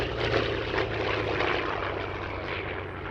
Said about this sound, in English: wave at Brian as he taxes in the yellow-nosed Corsair